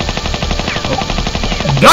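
Rapid gunfire in an animated Mario fan film, a loud steady stream of shots for about two seconds ending in a brighter burst.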